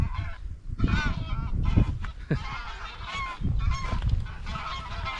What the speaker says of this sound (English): Oh, you come the geese. You come the geese.